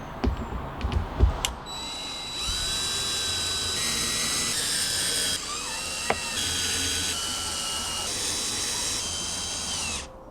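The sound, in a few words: screws being driven down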